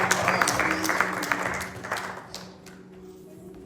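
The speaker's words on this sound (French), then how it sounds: "On acclame pour le Seigneur." A church congregation applauds in praise, a fairly loud wash of clapping that gradually fades and thins toward the end.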